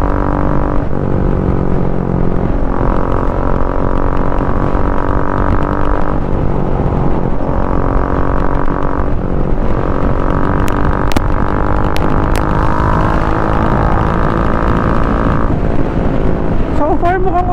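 A Triumph Speed 400 motorcycle fitted with a silencer runs on an expressway, its engine a loud continuous drone that climbs and drops through gear changes, with wind rush and someone talking over it.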